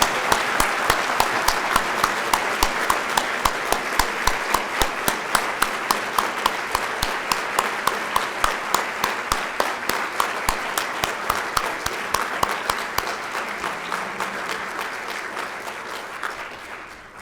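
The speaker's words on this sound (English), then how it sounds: "Let's give these students a round of applause." Audience applause for students at an ethics awards event, sustained close clapping with distinct rhythmic claps standing out, holding steady for most of its length before gradually fading out at the end.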